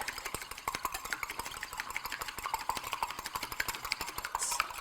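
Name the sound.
whisk beating an egg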